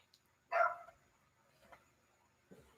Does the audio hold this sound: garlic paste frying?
no